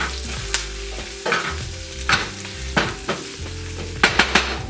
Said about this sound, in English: I'm going to go ahead and throw the peppers in there. I'm going to mix this up real well